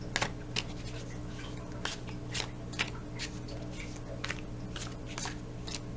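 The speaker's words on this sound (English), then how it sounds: "while I just finish shuffling, let's just get ready for this upcoming week together through the shuffling" A deck of tarot cards is shuffled by hand up close: a string of short, crisp riffling bursts at irregular intervals over a low, steady background hum.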